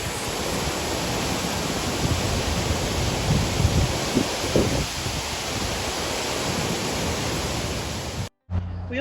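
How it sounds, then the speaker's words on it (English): Heavy, steady roar of water pouring over the spillway drop at Maroon Pocket Dam, close and loud throughout, cutting out briefly just before the end. "This is the spillway at Maroon Pocket Fan. Big drop off here of the waterfall. Really discharging at the moment."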